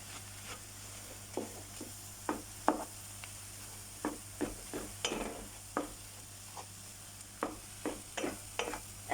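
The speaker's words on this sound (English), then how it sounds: "Now while this is frying up" Dhal mixture fries quietly in a pan while a spoon stirs and scrapes it in short, irregular strokes over a faint continuous sizzle.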